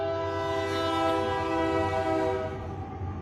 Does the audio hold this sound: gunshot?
no